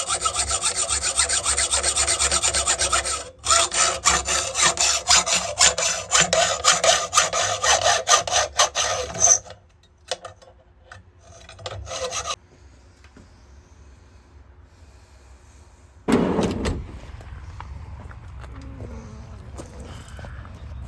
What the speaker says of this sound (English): We'll polish it with the flap disc.